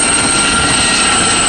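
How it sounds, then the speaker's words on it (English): A single-engine helicopter flies past at an airshow, a loud, steady rotor and engine roar filling the whole moment without pause. "Still holds the record as the fastest single-engine helicopter manufactured to date."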